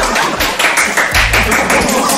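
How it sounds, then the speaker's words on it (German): Studio applause during the sign-off of a daily German football talk show, a short burst of dense clapping and tapping that stays loud and steady throughout the couple of seconds. "Und jetzt brandet hier wieder Applaus auf."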